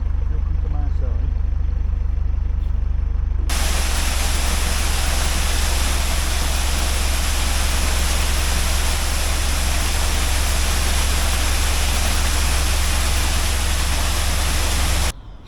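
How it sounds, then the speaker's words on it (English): Water running into a narrowboat's water system, a loud broadband rushing hiss that starts abruptly and continues steadily close by, with an engine-like low rumble underneath. "Finally, we've got water going in the system."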